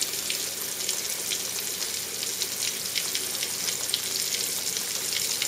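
Pompano fillet laid into very hot oil, a steady, busy crackling sizzle with fine popping spatters that holds evenly throughout, close and moderately loud with no voices.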